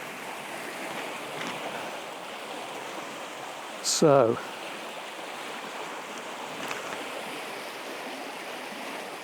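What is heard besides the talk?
river water flowing over big boulders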